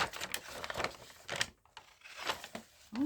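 Scissors snip across paper card for a flippy journal card, a quiet series of short crisp cutting clicks in an irregular rhythm, close and faint, with a brief pause midway.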